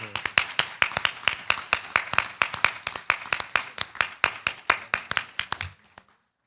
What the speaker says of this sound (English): I think he needs a good round of applause